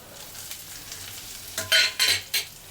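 Dried red chilies, mustard seeds and cumin tempering in hot oil, a low sizzle that flares into three loud bursts of spitting and crackling toward the end.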